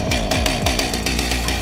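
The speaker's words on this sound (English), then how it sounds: "All the destruction, brutal slashing of the chainsaw" Chainsaw slashing in the Chainsaw Man anime: a loud, dense mechanical roar with sharp repeated bursts and grinding, continuous and close throughout.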